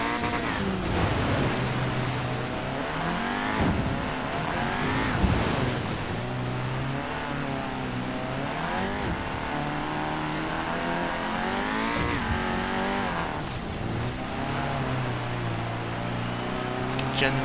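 A French hot hatch revs hard to about 7,000 RPM in the racing game Forza Horizon 4, its engine note climbing and falling in repeated sweeps over steady game background noise, with a voice talking over it.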